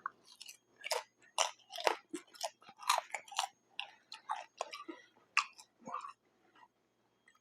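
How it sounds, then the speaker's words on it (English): Crispy McDonald's fries crunched and chewed close to the mouth, a steady run of sharp crackling bites over several seconds with no talk. "I hope these fries are registering as like, oh, they're really crispy"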